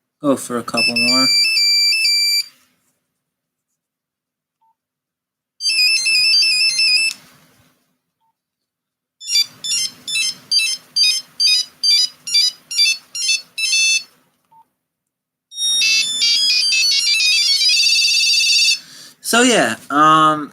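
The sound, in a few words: vintage mobile phone ringtones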